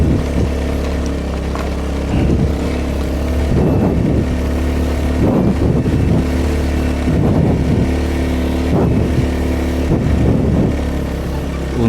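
Motorcycle engine droning steadily while climbing an uphill route on the way to Pangasan Beach, with a constant low hum and periodic surges of revving, close and continuous for the whole stretch.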